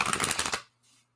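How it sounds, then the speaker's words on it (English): A quick, loud ripple of cards being riffled together for about half a second, then a short faint rustle before silence. "One more shuffle and we'll get into this one."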